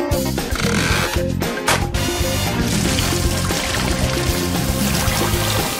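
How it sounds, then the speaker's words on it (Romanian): Water is poured steadily to fill an inflatable pool in an animated challenge scene, a continuous splashing rush that runs the whole time beneath loud, busy music. "Mai rămâne doar să umplu cu apă."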